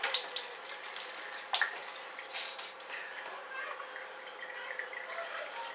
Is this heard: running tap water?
yes